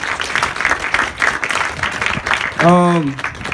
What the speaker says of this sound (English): So kudos and applause to you.